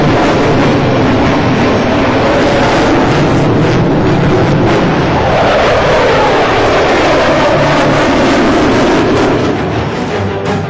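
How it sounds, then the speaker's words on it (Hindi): A fifth-generation stealth fighter jet roars overhead in a continuous, loud, broadband rush that holds steady across the whole pass, with no voices. "खामोशी से आकर ये अपने मिशन को अंजाम देकर आसमान को चीरता हुआ निकल जाएगा"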